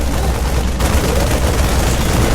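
Marines firing on a Zerg Queen in a StarCraft 2 match, a steady, dense crackle of rapid gunfire running loud and unbroken throughout.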